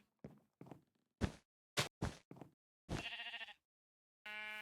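Sheep bleat in the video game StaTech Industry: a quiet series of short bleats separated by silent gaps, ending with a couple of longer, wavering calls.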